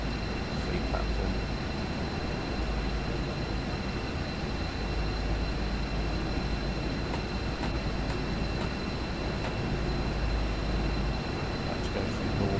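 A train runs along rails in a train simulator game, a steady rumbling rolling noise with continuous low drone and faint periodic clicks, sustained throughout, with a person talking over it.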